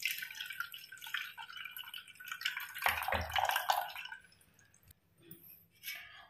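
Water from ground biryani leaves is strained through a sieve. Close, steady trickling and dripping with wet splashes that swell in the middle, then thin to sparse drips.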